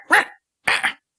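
A person imitates a gerbil barking: two short, close, yelping vocal bursts separated by a brief pause.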